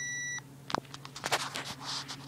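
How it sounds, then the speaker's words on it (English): A Lego Mindstorms NXT robot car gives one steady electronic beep lasting about half a second, followed by clicks, clatter and small mechanical knocks as the toy moves. "Makes a little beeping noise if you are wondering what that was."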